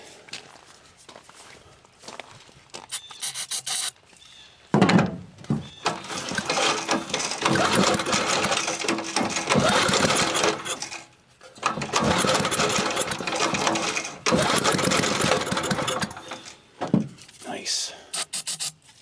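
A small 1972 Briggs & Stratton 4hp engine on a Dayton 1500 watt generator coughs and catches several times, running roughly in loud stretches broken by brief stops, close by.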